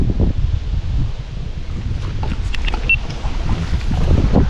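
Strong wind buffets the microphone over open water from a fishing boat, with gusty roaring rumble and faint splashing throughout, no voices.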